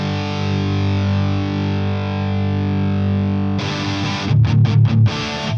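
Distorted electric guitar through a Marshall-style amp model in Guitar Rig 6, a sustained crunchy chord ringing loud and steady, then a burst of choppy, heavily gained palm-muted stabs near the end.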